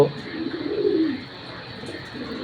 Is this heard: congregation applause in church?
no